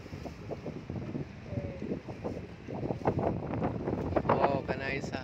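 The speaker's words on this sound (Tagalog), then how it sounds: "Oh, kanay sa hangin." Wind gusts over the microphone outdoors, a steady buffeting rumble that strengthens toward the end, with voices talking faintly beneath it.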